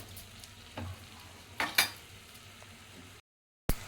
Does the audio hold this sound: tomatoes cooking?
yes